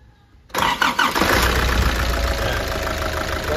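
A Nissan Urvan Estate E25 with a ZD30 diesel engine cranks briefly and fires on one click, settling into a loud, steady idle close by.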